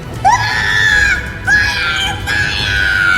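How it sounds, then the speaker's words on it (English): Soldiers screaming in battle in the video game Drakengard 3, loud, harmonic wails rising and falling in three overlapping waves, close and continuous for a few seconds over a rumbling background. "Don't you hear all that screaming?"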